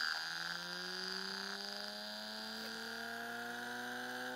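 A VCR drum motor driven by a Bedini SSG circuit spins up, its whine rising steadily in pitch over an electrical buzz, moderately quiet and continuous with no voices.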